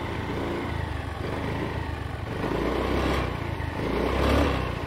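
A new Honda Dio scooter runs with an abnormal noise, its engine droning steadily up close with a couple of rising, swelling surges.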